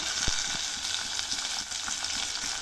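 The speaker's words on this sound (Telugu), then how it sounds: "మంచిగా కొంచెం గోల్డ్ కలర్ వచ్చేదాకా వేయించుకోవాలి" Chopped onions fry in a pan for dried shrimp curry, giving a steady, close, continuous sizzle with scattered soft stirring clicks and no talk.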